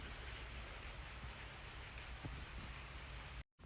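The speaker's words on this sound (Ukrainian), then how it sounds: "на дворі йде дощик" Steady rain falling outdoors, a continuous dense hiss with soft patter of drops, even and unbroken before cutting out briefly at the end.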